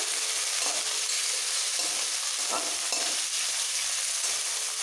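Continuous loud sizzling of steamed cauliflower frying in a hot pan, with a few brief stirring scrapes and no voices.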